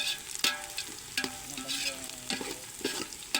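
Sliced onions frying in a pan alongside bay leaf, cinnamon, cloves and star anise, sizzling steadily while a spoon scrapes and stirs with several sharp metallic knocks, heard close with no talk.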